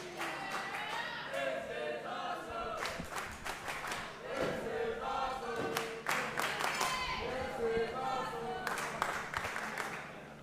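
Crowd at a live wrestling match on a Thursday night card cheers, claps and shouts throughout, a dense, continuous wash of noise with bursts of louder yelling and applause swelling near the middle and end.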